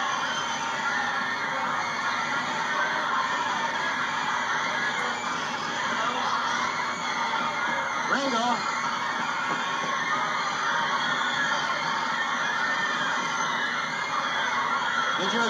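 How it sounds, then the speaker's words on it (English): A dense crowd of fans at an airport keeps up continuous shouting and screaming for a Beatles drummer, a loud, steady roar of many voices with no pauses. "fans are lying 10, 15, up 20 deep, all shouting Ringo Starr"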